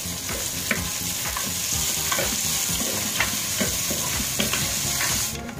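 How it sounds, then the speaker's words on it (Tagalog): Onions sizzle in hot olive oil in a pan, a dense, steady crackling fry close up, punctuated by repeated scraping stirs through the whole stretch. "Ilagay na natin ang ating sibuyas. So, kaya lang po ito mag-golden brown."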